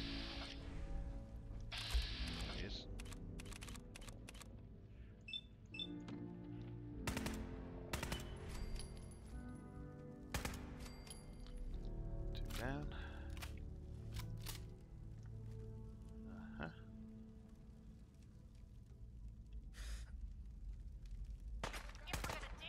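A heavy-recoil gun fires in Fallout 4 in scattered single shots and short bursts spread across the clip, punchy, loud bangs mixed with game effects, tones and background ambience.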